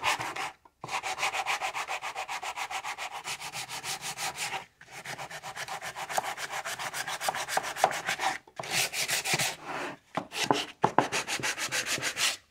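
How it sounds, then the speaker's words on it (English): A sanding block rubs along the edge of a wooden board in fast, regular back-and-forth strokes, a close, rhythmic scratchy rasp broken by short pauses, with no voices. "you can put this in your sanding block on the outside here."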